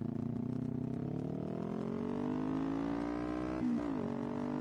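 A 2018 Kawasaki Ninja 400 engine pulls hard and close, its tone climbing smoothly through the revs, then dropping sharply at an upshift before rising again, with no talking over it.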